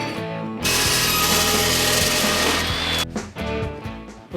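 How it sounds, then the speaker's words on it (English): A power saw cuts off a short piece of steel tubing, a loud steady grinding whine running for about two and a half seconds before cutting out, then irregular rougher bursts of tool noise. "I need to chop off a little piece of tubing so I can push the U-joint cup down into it."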